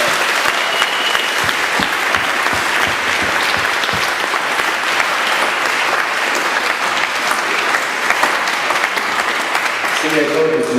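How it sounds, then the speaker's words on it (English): Sustained audience applause at a schools debating final, loud and continuous, a large crowd clapping for the whole stretch with some cheering voices underneath. "So please give them all a round of applause."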